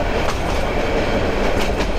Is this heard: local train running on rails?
yes